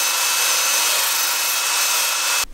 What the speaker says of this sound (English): so I gotta grind this off